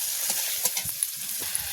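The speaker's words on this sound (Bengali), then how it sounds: "আর কুমড়োটা ভাজা করব" Pumpkin fries in oil in a pan, sizzling and crackling steadily, with soft scraping stirs now and then, close and fairly loud.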